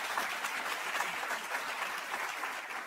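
Audience applause at a health policy event, a dense steady wash of clapping from a crowd that holds at an even level throughout with no voices over it.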